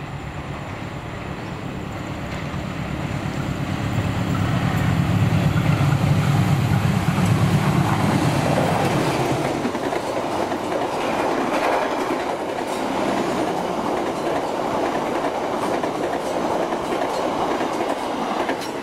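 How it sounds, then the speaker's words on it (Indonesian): The Jayabaya 106-107 passenger train rolls past on the rails with a loud, sustained rumble and clickety-clack that swells as it nears and continues as a steady rushing roar. "Lalu ini kereta api Jayabaya 106-107"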